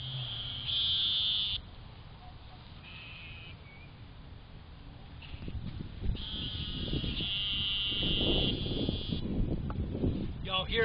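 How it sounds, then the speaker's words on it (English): Frogs croak in the background by a wild dewberry patch after rain, heard as repeated buzzing, trilling bursts over outdoor wind noise while a person talks. "Y'all hear those frogs in the background?"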